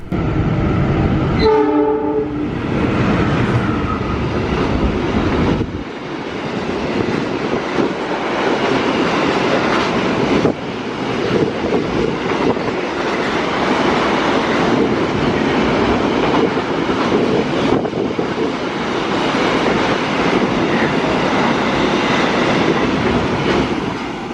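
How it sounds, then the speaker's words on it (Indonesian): A long container freight train rumbles past loudly at close range, opening with a sharp horn blast, then a sustained roar of wagons and rhythmic wheel clatter continuing steadily throughout. "tepat di belakang kereta api Matarmaja terdapat kereta api angkutan barang peti kemas"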